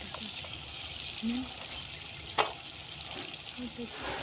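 Small cabbage manchurian balls fry in hot oil with a steady, close sizzle and bubbling, marked by a brief sharper crackle midway and faint clinks of a utensil.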